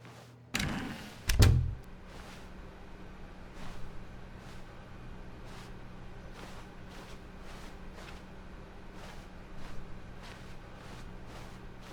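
A door in the video game The Stanley Parable opens with a sharp thud and clatter near the start, then settles into a quiet, steady office ambience.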